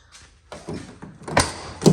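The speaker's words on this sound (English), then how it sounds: "pop the old door open" An old car door being popped open during welding work on a Fairmont, with a few short metallic clunks and a rattle building to two louder knocks, close and with no one talking.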